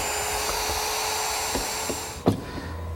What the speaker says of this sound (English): Push the pin in, slide the jig back in place, and route some more holes.